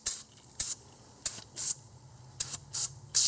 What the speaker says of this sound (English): Now we're going to use the aerosol.